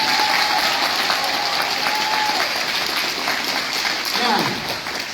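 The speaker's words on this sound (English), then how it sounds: "Let's give her another round of applause." An audience at a student government election applauds a student candidate, a dense sustained clapping that fills the room and thins out toward the end.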